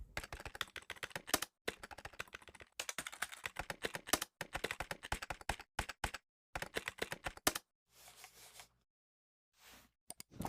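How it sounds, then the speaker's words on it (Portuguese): Rapid bursts of keystrokes clatter on a computer keyboard, several quick runs broken by short pauses and ending in a few sparser taps; close and clear with no speech. "Ele pega o teclado e começa a usar ele para poder recuperar o seu cursor."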